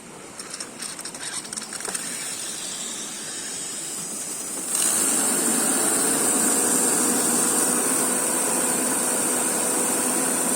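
A Pelton micro hydro turbine under 12V load runs with a 5 mm nozzle at 41 m head, a continuous rushing hiss of water jet and spinning wheel that rises sharply in loudness partway through and holds steady.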